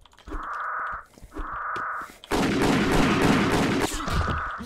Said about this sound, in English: I hear the same gun sound file. That means somebody shot at me.